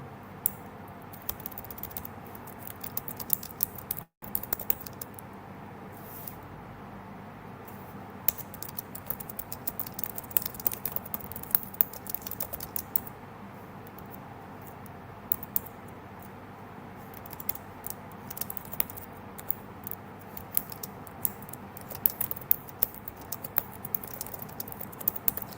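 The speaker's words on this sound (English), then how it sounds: "I'm just typing this in because I want to show you all" Fingers type a prompt on a computer keyboard, producing a long run of quiet, irregular key clicks close to the microphone with brief pauses, and no one talks.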